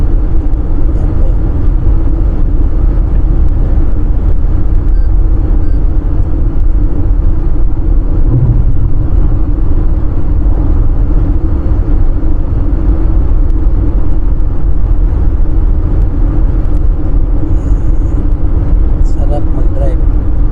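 A car cruises along a clean, nearly empty road to Makkah, its engine and tyres making a steady, close, low rumble that runs unbroken from start to end.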